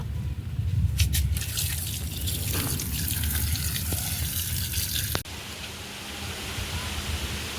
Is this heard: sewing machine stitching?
no